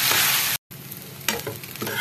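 Rice frying in a pan with curried vegetables for pulao gives a loud, continuous sizzle, broken by a brief cut to silence and then rougher scraping as it is stirred. No one speaks.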